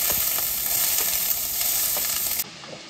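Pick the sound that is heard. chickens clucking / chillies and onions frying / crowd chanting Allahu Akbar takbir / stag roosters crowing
chillies and onions frying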